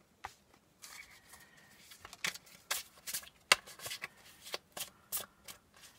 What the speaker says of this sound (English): They're a little bit slick. They shuffle really nice.